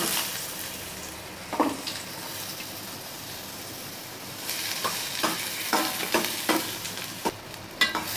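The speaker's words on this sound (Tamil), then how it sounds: "இப்போ அதை சேர்த்து நம்ம வதக்கிக்கலாம்." Chopped, peeled radish sautéing in oil in a kadai, a steady quiet sizzle broken by a series of sharp spatula scrapes and taps against the pan, close up.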